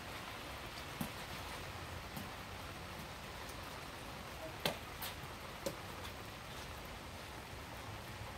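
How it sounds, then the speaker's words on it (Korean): Soft, steady rain patters on a surface and paving blocks outdoors, with occasional louder drips ticking through the hiss; quiet and continuous. "지금 비가 오는데도"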